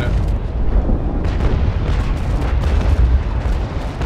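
Cannon fire in a pirate naval battle video game forms a dense, continuous low rumble of overlapping booms with no clear gaps and no talk.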